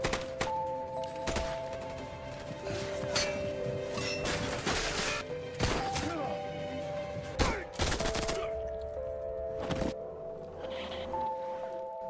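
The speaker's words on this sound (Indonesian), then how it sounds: "Mason yang mengantar Jamie tiba-tiba diberondong peluru oleh geng Triple Six yang membuatnya harus tewas juga." A film gang sprays bullets in a street ambush, with loud repeated gunfire bursts and sharp impacts scattered through the scene over tonal engine or alarm hums and other action noise.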